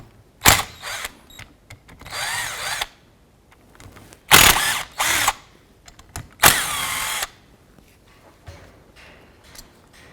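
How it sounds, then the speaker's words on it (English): A power tool with an 8mm socket removes the wiper motor bolts from the wiper transmission on a 2001-2007 Ford Escape: three loud close whirring bursts separated by quiet clicks and handling noises. "Using an 8mm socket, I'm going to go ahead and remove the 3 8mm bolts holding the wiper motor to the transmission."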